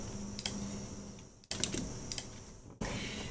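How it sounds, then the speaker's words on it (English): Steady computer keyboard typing, close by and moderately soft, in a few bursts separated by short pauses. "Sorry for the noise of the keyboard."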